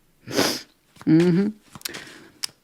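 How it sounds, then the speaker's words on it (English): Several quick, wet nasal sniffs close to the microphone, one strong and drawn out, followed by shorter snuffly breaths. "Oh, I got the sniffles."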